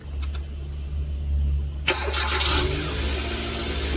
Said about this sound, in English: Right now I can start the engine to read the waveform.